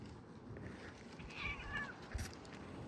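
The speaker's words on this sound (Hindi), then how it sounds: "ये देखो 2 बिल्लियाँ" Cats meow faintly at a high-altitude container settlement in bitter cold, with one drawn-out, wavering call rising above a low background murmur before it fades.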